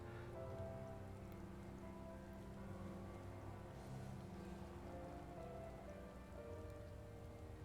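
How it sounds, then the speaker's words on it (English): Steady rain falling in the Final Fantasy XIV game world, a constant wash of patter at even loudness throughout, with tonal game music or ambience humming faintly underneath and no talking. "Look at this rain."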